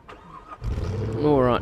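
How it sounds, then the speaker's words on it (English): A car engine in the video game Police Simulator: Patrol Officers cranks and starts, then idles with a rising rumble, loud and close, while a voice talks over it. "this car is so loud"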